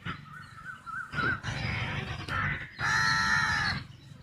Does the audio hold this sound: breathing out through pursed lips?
no